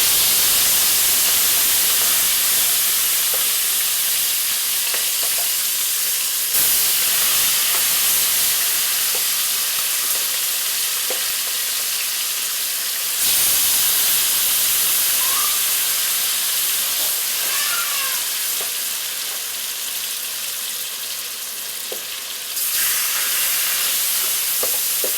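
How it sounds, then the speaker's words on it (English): Chicken pieces fry in hot oil in a pot for a Jamaican curry, a loud, continuous hissing sizzle that surges as more pieces go in, with light clinks of utensils and no speech. "So take up the pieces when the oil is hot and add it to the pot."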